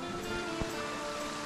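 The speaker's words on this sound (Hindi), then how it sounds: "ये खूबसूरत पानी नाले से आता हुआ" Water rushes steadily down a stream at Jibhi waterfall in the Tirthan valley of Himachal, a dense, continuous broadband roar close by with no pauses.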